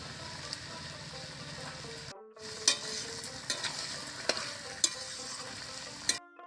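Jackfruit curry is stirred and sautéed with ghee in a pan, giving a steady close sizzle with scraping spoon strokes and several sharp clinks against the pan. A brief gap of silence breaks it twice.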